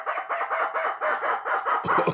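A rubber chicken toy is squeezed repeatedly, giving a rhythmic series of loud, nasal squawks in steady pulses, ending in a harsher, drawn-out squeal, close and alone.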